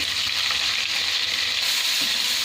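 Chopped onion hits a pan of frying ginger and garlic for a noodle dish, making a loud, dense, continuous sizzle with faint stirring underneath and no talk.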